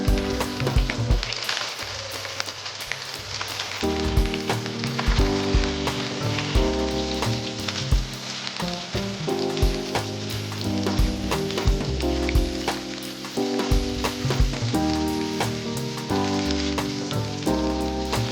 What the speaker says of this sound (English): Slice the smoked sausage about 6 to 8 inches in length into bite-sized pieces and fry them in the same pan.